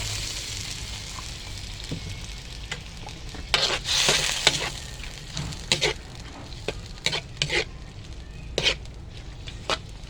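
Mung beans and fresh shrimp sizzling in a pan as they are stirred for a sautéed mung bean dish, steady frying hiss with clattering scrapes and stirring bursts, close and fairly loud, no talking.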